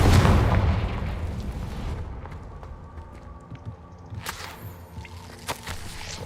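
A Confringo blasting spell going off in Hogwarts Legacy, a loud burst that booms at the start and then rumbles away, with smaller cracks and thuds afterward and no talking.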